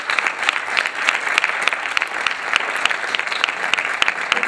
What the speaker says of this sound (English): I think all of our candidates deserve a big round of applause.